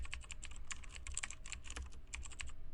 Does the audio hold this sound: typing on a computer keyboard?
yes